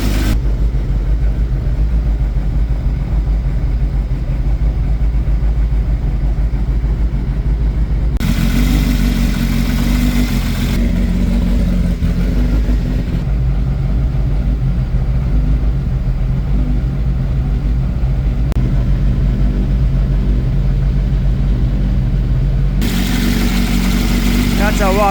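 A 54c GTiR engine idles after its valve clearances were reshimmed, a loud, steady, close running drone with a brief change in tone partway through. A voice speaks over it.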